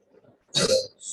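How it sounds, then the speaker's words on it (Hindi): A single loud, close cough, a harsh broadband burst of about a third of a second, preceded by faint murmuring and followed by a brief softer tail. "अभी तो मैं इतनी खांसी भी हो रही है मुझे"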